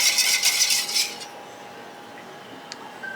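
A utensil scrapes and clinks against a pot while stirring a thick herbal mangosteen-peel bath soap mixture, a quick run of bright metallic strokes that fades into quiet with a single faint tap.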